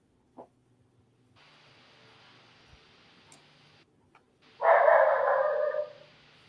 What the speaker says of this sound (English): We got the dog barking in the background.